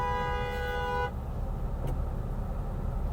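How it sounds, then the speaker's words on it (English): A car horn blares in one sustained honk that cuts off abruptly, loud and close, followed by low traffic rumble. "Thank you so much for honking right in my fucking ear."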